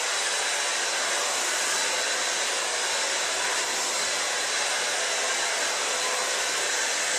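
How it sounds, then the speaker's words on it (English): A hair dryer blows continuously at close range while hair is smoothed with a medium-sized round brush, a loud, steady whooshing hiss with no pauses. "just go over it with a hair dryer and a medium-sized round brush"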